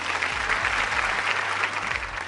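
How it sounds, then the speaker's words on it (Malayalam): Thin, sparse clapping from a studio audience on a Malayalam TV dance reality show, lacking force; light, fairly even hand claps continuing throughout, a low hum underneath. "കയ്യടി അത്രയും ഒരു ബലമില്ലാത്ത കയ്യടിയായി പോയി."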